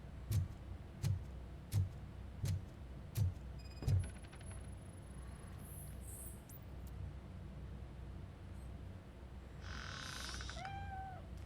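In the video game RoboCop: Rogue City, six evenly spaced heavy footsteps thud up close, followed by quiet ambience, a few faint mechanical tones and a short, soft cat meow near the end.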